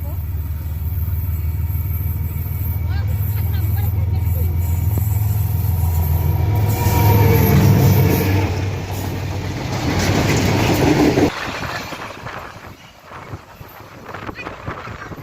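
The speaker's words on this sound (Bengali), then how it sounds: "এই ট্রেন আসছে ট্রেনের অপেক্ষা ছিলাম ট্রেন আসবে ট্রেন আসছে" A train passes on a railway line as a deep, loud rumble swells and holds for about eleven seconds before cutting away abruptly, leaving quieter ambience with faint voices in the background.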